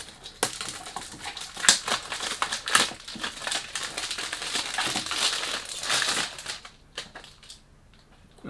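Cardboard and wrapping crinkle and rustle close up as a Lattafa Fakhar perfume is taken out of its box, in bursts of crumpling and scraping that fade to a few light taps.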